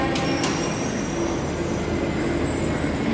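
A Delhi metro train runs steadily, with a continuous rumbling roll and a brief high squeal from the wheels near the start, loud and close from inside the carriage.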